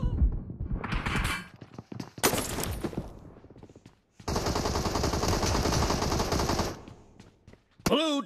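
Rapid automatic gunfire from the PUBG battle royale video game, loud bursts of machine-gun fire with a long sustained stretch of shooting and short gaps between volleys.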